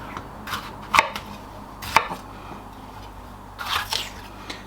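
Ninja kitchen knife chopping food while cooking Chinese crispy chicken: a few sharp, close knife strikes spaced irregularly, with quiet pauses in between.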